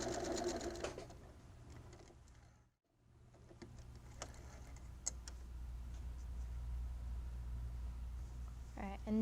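A sewing machine backstitching an in-seam pocket: a brief burst of fast stitching, then a quiet stretch of faint ticks and low motor hum, all fairly soft.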